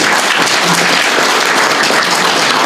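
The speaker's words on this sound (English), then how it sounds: "Give her a round of applause." Steady, loud applause from an audience at a hospital grand rounds talk, dense clapping sustained evenly throughout with no break.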